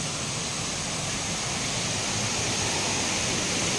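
A clear, deep forest stream at a farm in Baco, Oriental Mindoro, flowing in a steady, dense rush of water that fills the whole clip without pause.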